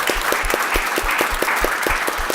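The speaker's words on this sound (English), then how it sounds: "let's have a round of applause for our panelists" Conference audience applauding a panel, a dense continuous patter of many hands with some louder near claps in a fairly even rhythm, moderately loud and without talk.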